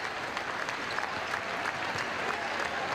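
Basketball crowd at an SIU vs Indiana State game doing its clap chant before a half begins. The arena-wide clapping sounds steady and distant, with a roomy wash of crowd noise and no clear voice on top.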